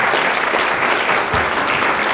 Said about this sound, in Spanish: pedirles nuevamente un muy fuerte aplauso que retiemble